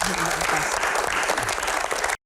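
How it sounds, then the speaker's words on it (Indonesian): A studio audience at an Indonesian talk show breaks into loud, dense applause that holds steady throughout before cutting off abruptly. "Tepuk tangan."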